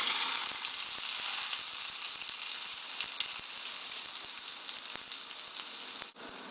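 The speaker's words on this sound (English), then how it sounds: "And I'm going to wait till the oil gets a bit hotter. And we're going to place the pambazo in here." A pambazo, a Mexican stuffed bread roll filled with potatoes and longaniza, fries in hot oil with a steady bright sizzle and crackle that continues throughout, close and loud, with no talking.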